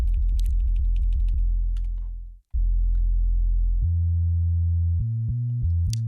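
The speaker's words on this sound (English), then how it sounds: "Let's start adding a sine sub." Sine sub waveform from a Polyend Tracker, heard as plucked low sine notes in a quick rhythmic run, then a long sustained tone that drops out and returns as steady held pitches changing step by step, loud and alone.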